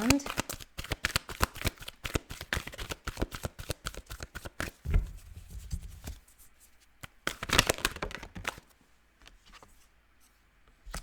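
Tarot cards are shuffled in rapid crackling riffles, close and crisp, in several bursts with short pauses between them while someone talks quietly.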